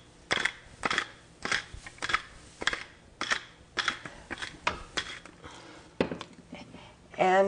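A pepper grinder cracks fresh pepper over a portabella mushroom stuffing mixed with thyme, giving a steady series of sharp, crunchy clicks close by.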